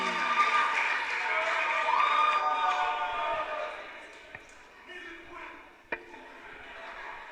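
An audience at a school quiz competition applauds a contestant, a dense burst of clapping that fades after a few seconds into scattered claps and a sharp knock.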